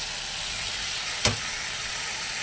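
Half-fried okra (bhindi) sizzles steadily in a pan, a loud, even hiss interrupted once by a brief sharp clatter partway through.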